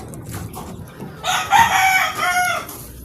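A rooster crows loudly in one long drawn-out call, with chickens clucking softly before it; no one speaks.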